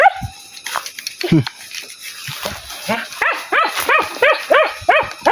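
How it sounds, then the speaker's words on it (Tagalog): A dog barks in a rapid series of sharp, loud barks, with whimpering and a person talking briefly earlier. "Kilala na ako ng aso"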